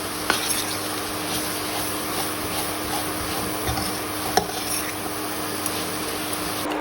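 Jaggery is stirred into grated coconut roasted in ghee, producing a soft, steady sizzle with occasional spoon scrapes and light clinks against the pan, close and fairly quiet.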